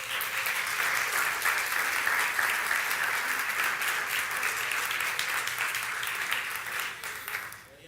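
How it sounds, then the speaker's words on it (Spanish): A church congregation applauds steadily, a dense, continuous wash of clapping that holds strong for about seven seconds before tapering off at the end. "Denle un aplauso al Señor."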